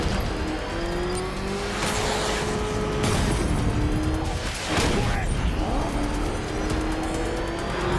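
Engines roar continuously through a chase in the video game Batman Arkham Knight, an enemy vehicle pursuing with revving, rising pitch sweeps and a squeal of tires, loud and busy with a voice faintly under the racket.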